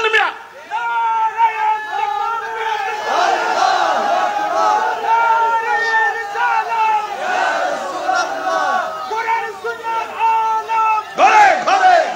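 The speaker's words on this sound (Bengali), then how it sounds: "স্লোগান দেন মিয়া" A large crowd at a Bangladeshi religious sermon chants slogans in unison, loud rhythmic call-and-response bursts repeating throughout, with a lead voice rising over them.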